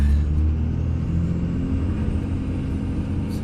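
A Dodge Ram pickup with a 5.9 Cummins engine driving up a snowy, cindered West Virginia mountain pass, a deep steady rumble that eases slightly as the throttle is lifted for a bend.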